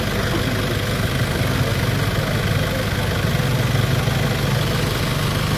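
A motorcycle engine runs steadily nearby, a continuous, fairly loud rumbling drone with no pauses and no talking.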